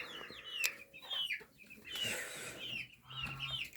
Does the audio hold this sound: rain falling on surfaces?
no